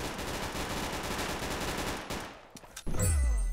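Rapid, repeated shotgun blasts from Roblox Arsenal come in a fast, dense volley before cutting off, followed by a sharp burst of other game sound.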